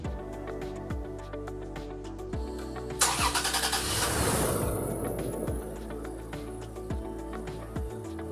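A Toyota Tacoma V6 fitted with a new intake cranks over, catches suddenly and flares to a brief rev, then settles into a steady idle, close and alone.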